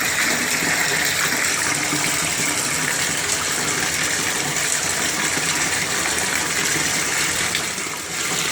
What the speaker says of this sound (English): swirling the sand around.